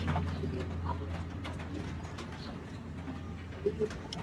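Racing pigeons coo softly in a loft, with low murmuring calls and a few faint chirps heard close by against quiet background hum.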